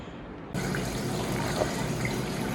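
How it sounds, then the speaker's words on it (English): Water runs steadily after a brief quiet start, a continuous close splashing trickle down hydroponic towers over a low water pump hum. "you can hear the water pumps running and the water running down"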